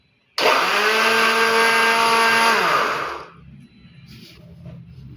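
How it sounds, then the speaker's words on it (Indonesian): An electric kitchen blender runs loud and steady for about three seconds, blending peeled cucumber with water, then winds down and stops, leaving faint room noise. "Setelah itu kita blender mentimunnya."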